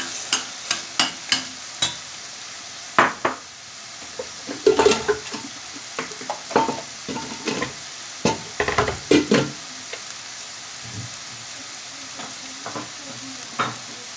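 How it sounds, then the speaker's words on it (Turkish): Chili flakes and black pepper are stirred into pastrami frying in a pan, with steady close sizzling and repeated sharp scrapes and clicks of the stirring utensil spread through the pan. "Şöyle bir karıştırıyorum."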